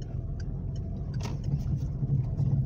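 A manual car in a driving lesson pulls away slowly as the clutch is eased out, its engine a low, steady rumble heard from inside the cabin, with faint clicks and no talking.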